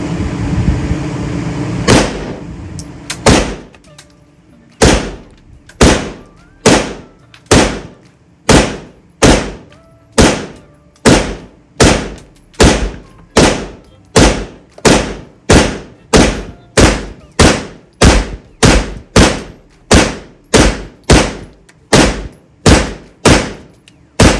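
Gunshots at an indoor shooting range: after some faint early noise, a long run of evenly spaced, loud, sharp reports, about one every second, each with a short echoing tail, with no voices.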